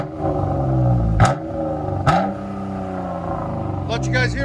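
A 2016 Chrysler 200 V6 with a straight-piped dual exhaust revs loudly from outside, its engine surging in two sharp blips over a steady rumbling idle, with a voice speaking briefly near the end.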